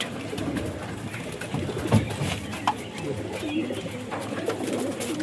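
Pigeons, a mix including hybrids, coo steadily in a loft where birds are being shown for sale, a dense, continuous low burbling from several birds at once with a few sharper flutters and calls mixed in.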